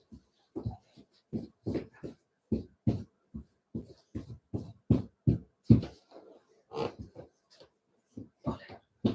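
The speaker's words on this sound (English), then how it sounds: "That's why my dog is in the way." A dog moves about and whimpers in a series of short, close, breathy whines and snuffles, repeating in an irregular rhythm with brief pauses between them, with no talking.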